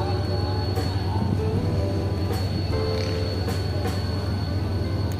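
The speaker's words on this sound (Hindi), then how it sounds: "तो ये अब ट्रैक पर एक थ्रू की ट्रेन आ रही है" A through train approaching on the track, heard from aboard the Baba Fareed Express between Rahim Yar Khan and Karachi: a loud, steady rumble and rail roar with intermittent metallic clicks and screeches, close and continuous.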